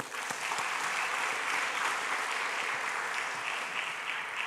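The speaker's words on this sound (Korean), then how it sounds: "우리 박수 한번 쳐주세요." A Korean church congregation applauds the choir after a lively holiday hymn, sustained, even clapping from a large room that swells slightly and continues to the end without speech.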